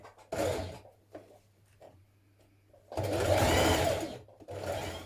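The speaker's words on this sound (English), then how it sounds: "you're going to finish pinning it the rest of the way around before stitching it in place" A sewing machine stitches a hoodie seam in two bursts, a short run near the start and a longer, louder steady whir later, with quiet handling noises between.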